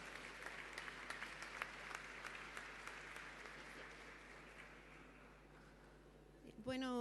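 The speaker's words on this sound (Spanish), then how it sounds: "fuerte aplauso para Alejandra, por favor" A seminar audience marking fifty years of the neighborhood councils law claps for a speaker being introduced: steady, faint, distant applause throughout, tailing off near the end.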